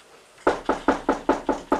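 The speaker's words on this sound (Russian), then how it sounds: "Золушка, к тебе кто-то пришел, стучит." Six firm knocks on a door in an even, steady rhythm, loud and close after a short quiet start, with no voices.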